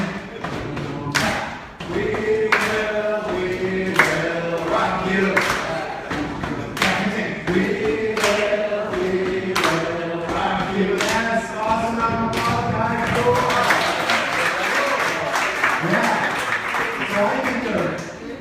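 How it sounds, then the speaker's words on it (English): Audience stomping feet and clapping a steady stomp-stomp-clap rhythm in a live rhythm workshop, loud and repeated throughout, with singing voices joining and a presenter's speech layered over the beat. "stomp your feet and clap your hands"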